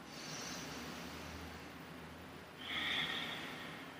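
A person doing a restorative yoga quad stretch and hip opener breathes audibly through the nose, with a long, airy exhale followed by a stronger, louder inhale, heard close and alone.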